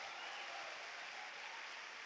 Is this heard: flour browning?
no